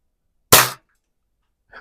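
A single sharp shot from a Tom Palmer 499b rifle fired at a paintball target, one loud crack with a short decay, followed by a faint click after a pause of about a second.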